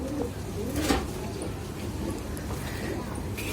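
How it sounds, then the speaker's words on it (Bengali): A pair of white golden pigeons, a male and a female, coo softly in a low, steady murmur, with faint background noise and brief chatter around them. "ফার্স্টে আমি আপনাদের এক পেয়ার হোয়াইট গোল্ডেন কবুতর দেখাচ্ছি।"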